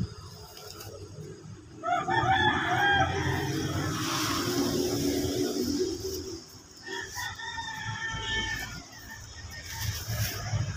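A rooster crows in repeated calls outdoors, loud and fairly close, with background rustling and a steady low hum throughout.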